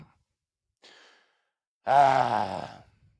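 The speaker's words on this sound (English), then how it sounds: "I can hear me breathing a little bit" Close breathing into a microphone: a short soft breath, then a louder, longer sighing exhale, with silence around them.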